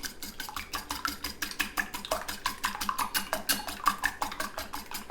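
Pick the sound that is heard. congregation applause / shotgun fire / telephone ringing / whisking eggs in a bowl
whisking eggs in a bowl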